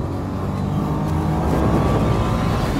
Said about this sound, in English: back on the throttle, just trying to build the speed through the corner